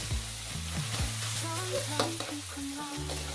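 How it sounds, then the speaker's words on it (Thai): Minced pork stir-frying with tomatoes in a pan for a northern Thai chili dip: a loud, close sizzle with repeated spatula scrapes and clanks against the pan, and steady hissing in between. "แล้วตามด้วยหมูสับอีก 200 กรัมครับ ลงไปผัดต่อเลยครับ"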